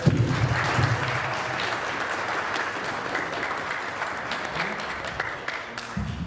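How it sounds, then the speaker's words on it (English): An audience at a community gathering in Toronto gives a round of applause, a sustained, even roar of many hands clapping throughout, fairly loud with faint voices mixed in. "Yeah, round of applause."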